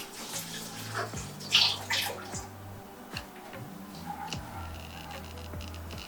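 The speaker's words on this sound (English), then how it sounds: "Let me rinse my hands." Hands rinsed under a running kitchen tap while baking carrot cake; a soft, steady stream of water with a few splashes and drips, faint and close, with no talking.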